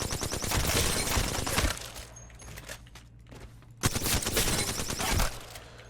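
An Alternator SMG firing in Apex Legends, two rapid bursts of automatic gunfire with a quieter gap between them, loud and close.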